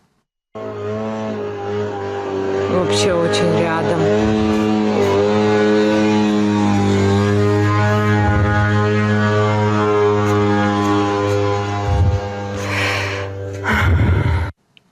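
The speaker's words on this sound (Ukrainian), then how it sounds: "Ну ще послухаємо, як звучать ті дрони, які атакували Феодосію." A steady, droning attack-drone engine buzz like a moped hums continuously overhead over Feodosia for the whole stretch, with a woman's sighs and a brief spoken remark near the end.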